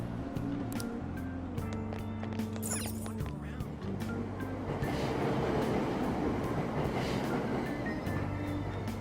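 Subway train pulling out of a station in the video game Persona 5 Royal, a steady low rumble with rising rolling noise and brief high squeals, loud and close throughout with no talk.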